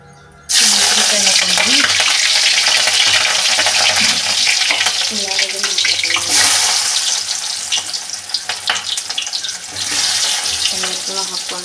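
Chopped tomato and coriander dropped into hot oil in a pot for a village-style kalu palya, crackling and sizzling loudly and close, with stirring and a wet bubbling texture throughout, with no voices.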